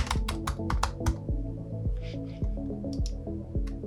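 Quick run of crisp computer keyboard keystrokes, about six close clicks in a burst, then a few scattered taps while working in Adobe Illustrator, close and clear with no talking.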